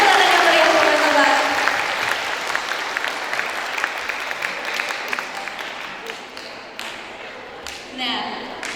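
Audience applause welcoming a speaker from the Indonesia Stock Exchange onto the stage at a public lecture on financial freedom, a loud burst of clapping that slowly fades while a few claps linger toward the end.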